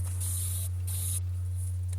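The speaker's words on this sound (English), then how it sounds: "Just a couple coats of spray shellac." Shellac sprayed from an aerosol can onto painted furniture in two short close hissing bursts, separated by a brief pause, over a steady low hum.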